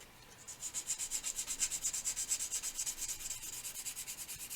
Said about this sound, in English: I'm mostly sanding off the glue, the squeeze out that's set here